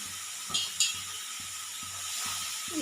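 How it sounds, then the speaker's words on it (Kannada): Finely chopped bitter gourd frying in oil in a pan: a constant soft sizzle, two sharp scrape-clicks from stirring, and a slow low pulsing beneath, with no one speaking. "ಎಲ್ಲನೂ ಈ ಥರ ಹಾಕೊಂಡ್ಬಿಟ್ಟು ಚೆನ್ನಾಗಿ ಹುರ್ಕೊಂಡ್ಬಿಡೋಣ"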